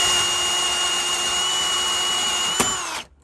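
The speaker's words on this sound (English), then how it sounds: "we got the holes pre-drilled" A power drill runs at a steady high whine while boring holes for an Anderson storm door installation, with a brief knock near the end before the motor winds down and stops.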